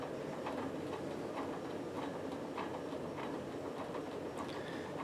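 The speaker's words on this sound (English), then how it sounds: "And this is when the rattling becomes the most pronounced." Casablanca 20th Century ceiling fan spinning at full speed, its mounting brackets scraping the motor housing, producing a steady faint whoosh with a rapid, regular ticking rattle throughout, no voices.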